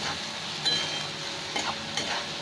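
Tomatoes with spices cooking down in a pan for begun bhorta, a steady close sizzle broken by a few soft scrapes from the stirring utensil, with no voices.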